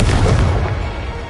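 A Confringo blasting-spell explosion erupts in Hogwarts Legacy, a loud, booming fiery burst with heavy low rumble that fades gradually across the short moment, heard alone.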